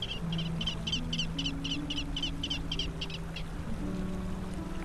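A gull calling in courtship on a tidal mudflat along Liaodong Bay, a repeated series of sharp, rhythmic call notes over about three seconds, fairly close, over a steady low background hum.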